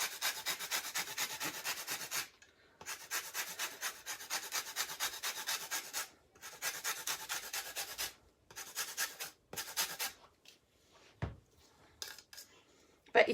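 Lemon peel is rubbed briskly over a hand grater in quick rasping bursts of scraping strokes, separated by short pauses, close and fairly loud, for a bread and butter pudding.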